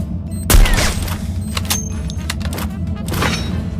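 Bomb blast in the shooter game Free Fire: one heavy explosion thumps early, then a scatter of sharp gunfire cracks and debris hits follow over a rumbling game background.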